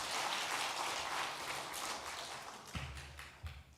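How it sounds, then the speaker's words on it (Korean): A Korean church congregation at a Sunday family-invitation worship service applauds in a dense, continuous burst that thins out after a few seconds, leaving a few scattered heavier taps at the end. "하나님 앞에 영광의 박수 올려드리겠습니다"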